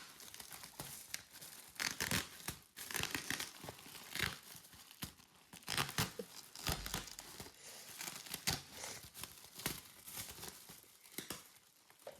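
Aluminium foil packaging crinkles and crackles in repeated bursts while being unpacked, close and fairly faint, with irregular rustling between the sharper crunches and no talking.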